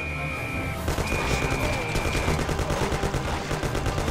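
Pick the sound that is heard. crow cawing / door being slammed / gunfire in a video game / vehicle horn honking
gunfire in a video game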